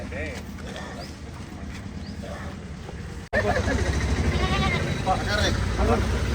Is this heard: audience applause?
no